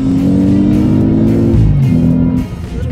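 An Audi S8 Plus with a 605-horsepower engine and quattro drive accelerates hard, its loud engine note climbing steadily through the gear and then dropping at a shift, heard close from inside the car.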